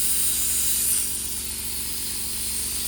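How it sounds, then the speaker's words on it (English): Airbrush paint spray fired into a rag to clear the colour, a steady close hiss that softens slightly partway and then continues. "just fire the spray into there"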